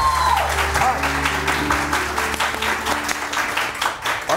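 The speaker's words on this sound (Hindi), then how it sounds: "बहुत सारी तालियां डॉक्टर ईसा के लिए" Studio audience applause on a morning TV show: a steady, dense round of clapping that carries through the whole stretch at close range, with faint tonal music underneath.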